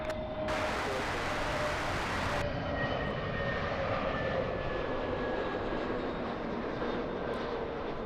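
Jet airliner passing at LAX airport, a steady broad roar of engine noise filling the whole span, with a brief brighter hiss in the opening seconds and faint whining tones above.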